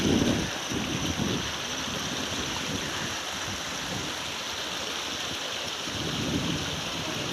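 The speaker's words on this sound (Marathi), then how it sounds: "मस्त पायऱ्यांवरून पाणी जाते हवाई खूप सुटली" Water rushes steadily down a series of stone steps at a hill fort while gusts of wind buffet the microphone, loudest at the start and end.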